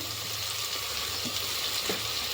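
Masala with chili powder and turmeric sautéing in a pan, a steady close sizzle and frying hiss with faint stirring scrapes, continuous and even throughout.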